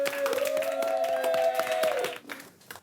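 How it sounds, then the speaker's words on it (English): Audience clapping for Team China at a prize announcement: quick, dense clapping from a crowd under a sustained tonal hum, stopping abruptly near the end and leaving a few stray claps. "can you give them a humongous clap, please, for Team China?"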